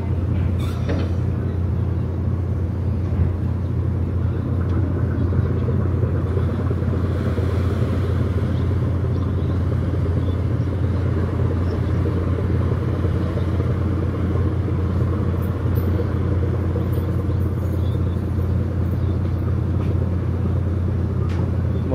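Steady heavy engine rumble from trucks being loaded onto the ferry MV Francisco, bound for Camiguin Island from Balingoan, a continuous loud low drone throughout with no clear talk.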